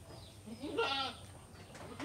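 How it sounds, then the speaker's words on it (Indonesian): A single goat bleats once, fairly faint, in a quiet farm setting, with a short wavering call in the middle and low background noise around it. "ini mau taruh di mana kambing ini."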